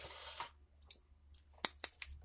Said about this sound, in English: these scissors are so thin and useful